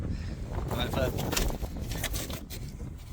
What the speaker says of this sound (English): the wind's trying to take my stuff away